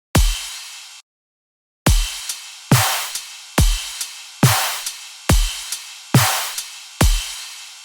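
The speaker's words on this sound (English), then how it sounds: "So now all together the drums sound like this." A sampled drum kit of kick, snare, closed hi-hat and crash plays a steady, punchy pattern of loud hits with decaying cymbal wash, after one hit and a brief silence at the start, built for a metal dubstep drop.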